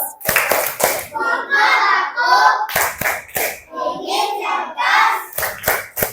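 A class of children performs a rhythmic clap chant in a classroom, with bursts of sharp, unison hand claps alternating with loud group chanting.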